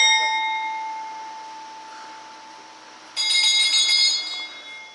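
The fading hum of a temple bell in Bandipur, Nepal carries on until a second strike near the end brings a fresh, shimmering ring that slowly decays, heard at close range.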